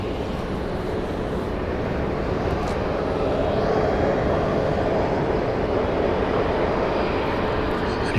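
An airliner arriving at Phoenix Sky Harbor airport gives off a continuous broad jet roar that swells gently and stays loud throughout, heard from a distance without any voices.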